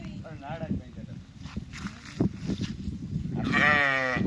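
Sheep bleat nearby at a farm shelter in Cyprus, a wavering cry early and a louder, longer bleat at the end, with people talking throughout.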